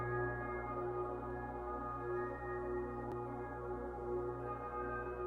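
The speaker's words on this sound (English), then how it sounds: "The music for fighting the Ender Dragon, what is positioned by the game as the final boss" Minecraft's Ender Dragon boss fight music from the video game plays as quiet, sustained tonal drones and held notes, steady and low in level with no voices.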